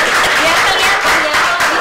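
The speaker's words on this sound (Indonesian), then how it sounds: "Tepuk tangan gitu ya" An audience claps at a podcast recording, a fairly loud, dense burst of applause from a room of people, with some talk mixed in underneath.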